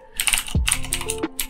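A URL being typed on a computer keyboard during a Python coding session, with a quick run of close, crisp key clicks over about a second and a half.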